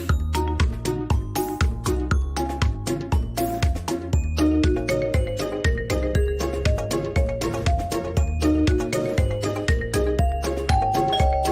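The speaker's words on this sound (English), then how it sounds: "we built the world's first popcorn doorbell" A novelty popcorn-themed doorbell plays a chiming tune continuously, bright repeated ding-dong notes over a bouncy rhythmic backing, loud and close.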